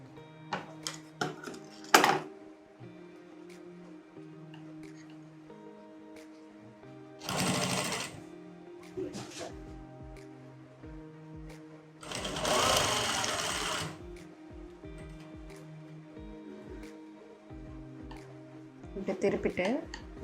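A sewing machine stitches a girl's skirt and blouse in short runs, whirring close up between stops, with someone talking over it and small clinks of tools and scissors.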